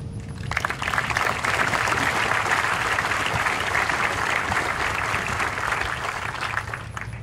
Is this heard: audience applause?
yes